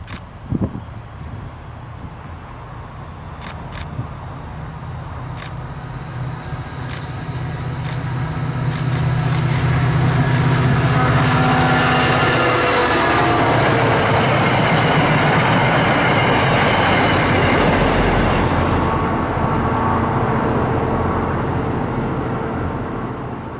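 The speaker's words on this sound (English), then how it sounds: "Here we see an unusual north-facing CT Rail Jeep leading train 4404." A CT Rail passenger train, train 4404, led by a north-facing locomotive at Hartford Yard, rumbles past, building from a distant approach to a loud, sustained roar of engine and rolling wheels before slowly easing off.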